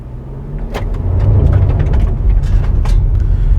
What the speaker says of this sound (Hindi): अब मैं इसको सिटी ड्राइव में नॉर्मल ड्राइव जो है वो कर रहा हूँ इस गाड़ी को।